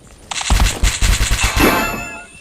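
Rapid automatic gunfire from a weapon in a Roblox battle-royale game, a loud burst of about ten closely spaced shots, then a brief ringing tail.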